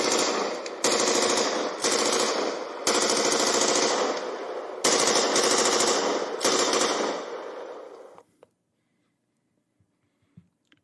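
Machine gun fire sound effect: loud, dense rattling bursts separated by short gaps for about eight seconds, then an abrupt drop to near silence with a few faint clicks.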